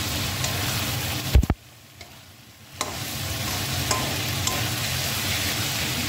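Fish curry with potatoes, turnip and eggplant stir-frying in a pan, a steady close sizzle with scraping stirs, briefly cut to near silence for about a second before the frying resumes.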